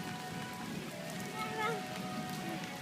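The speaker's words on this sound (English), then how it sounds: "Catch the raindrops with your tongue." Steady fall rain pattering outdoors on the ground and surfaces, a continuous soft hiss with a brief faint voice-like sound partway through.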